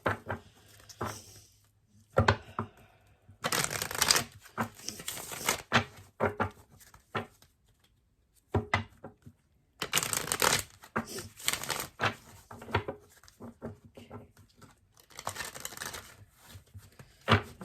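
A deck of tarot cards shuffled close by in several loud, rustling bursts, with short quiet pauses and softer handling sounds between them.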